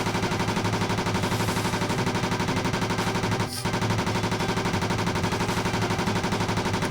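Gunshots from the 1997 Atari arcade shooter Maximum Force, a steady and rapid run of loud repeated shots, evenly spaced across the whole stretch, with one brief sharp break midway and no talking.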